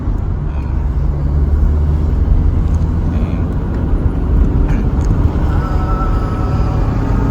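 A stock Nissan 240SX accelerates, its engine a loud, close, steady low drone that swells slightly as it pulls, heard from inside the car with road rumble beneath.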